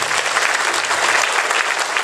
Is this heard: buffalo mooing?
no